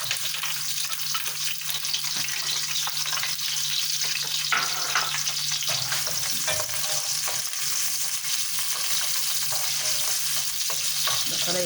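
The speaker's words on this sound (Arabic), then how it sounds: "الزيت قدامكم سخن اهو. هعملها بقى بالبصل وبالثوم." A medium onion, chopped small, fries in hot oil with a steady, dense sizzle that holds at an even level for about twelve seconds, close up, with no talking.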